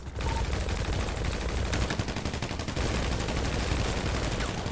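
Rapid bursts of gunfire crackle continuously, with a sharp crack near the middle and sustained automatic shots throughout, sounding like game audio.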